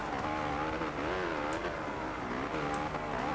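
A motocross bike engine in the MXGP2 racing game revs hard with clutch work, a loud, steady buzzing drone that rises and falls in pitch in repeated sweeps.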